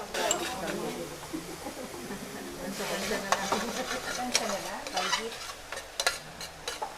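Vegetables being sautéed in water in a pan for a vegetarian dish, giving a steady, soft sizzle with stirring scrapes and utensil clinks throughout, while a voice talks faintly in the background.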